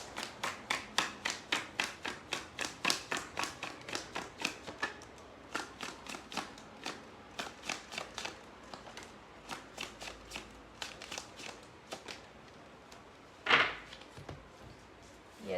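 Tarot cards being riffle-shuffled by hand, a rapid, regular run of close, crisp flicks for several seconds, a short pause, then more shuffling and a louder single slap as a card is drawn near the end.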